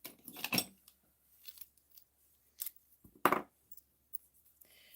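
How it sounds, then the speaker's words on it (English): A few pairs of scissors tangled together during card making clink and snip in brief, scattered bursts, close and fairly quiet, with soft handling noises between them. "I got all these scissors kind of like wrapped around each other"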